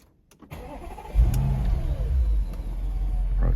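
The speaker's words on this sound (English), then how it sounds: "Now start the engine up again." 2014 Audi S7 engine cranking and catching at about one second, then settling into a steady, fairly loud idle close by with no talk.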